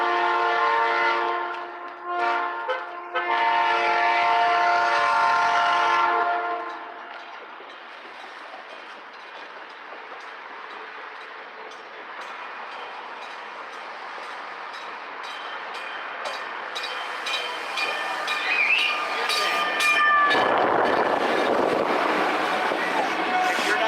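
A commuter train in Gary, Indiana sounds a loud multi-tone horn up close, then rumbles past steadily with rising clatter and a squeal of wheels toward the end.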